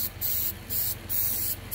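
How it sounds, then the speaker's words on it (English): Brake cleaner sprayed from an aerosol can onto oil on the underside of a 2011 Subaru Outback during a CVT fluid drain and fill, four short hissing bursts separated by brief pauses, close and fairly loud, with no talking. "grab yourself some brake clean and spray down the oil"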